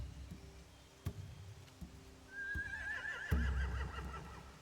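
A horse whinnies with a long, wavering neigh in the video game The Walking Dead: The Final Season, over a quiet background of occasional thuds and low rumbling, moderately close.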